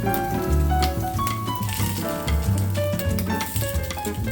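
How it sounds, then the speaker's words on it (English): Slices of pork belly sizzle and crackle in a pan on medium heat as the fat renders, a steady, close frying hiss with light popping over a low musical bed. "Make sure to flip the pork belly slices and brown all sides to ensure even browning."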